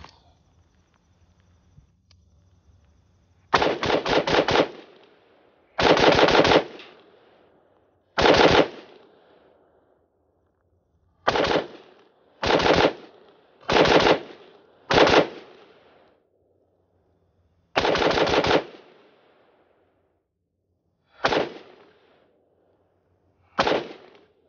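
Rifle firing Winchester 5.56 55 grain FMJ rounds in loud, close bursts of rapid shots and single shots, separated by short pauses, with no talking.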